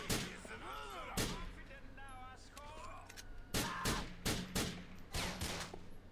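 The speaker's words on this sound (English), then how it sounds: "I shot him right in the head." Gunshots from Grand Theft Auto IV ring out in sharp, loud bursts, a single crack early on and then a rapid cluster of several shots toward the end, with someone talking over the scene between them.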